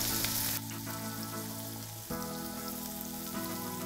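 Potato pieces fry in a hot pan with a dense, even sizzle close by. The crackle is loud and continuous, shifting briefly as the contents are moved, with no voices.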